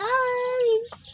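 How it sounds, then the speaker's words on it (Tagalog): A single drawn-out rooster-like call from farm chickens at morning feeding, close and fairly loud, with a brief squawk at the end. "Pakain tayo ng mga manok ngayong umaga."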